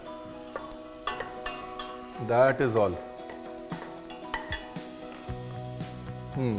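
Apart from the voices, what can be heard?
onions sautéing in pan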